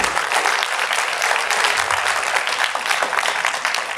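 Steady, dense applause from a large audience at a Hindi-Urdu poetry gathering on stage in Delhi, sustained and loud throughout with no voices over it.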